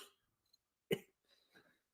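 A single sharp cough bursts out near the mic, followed by a few faint, short breathy sounds.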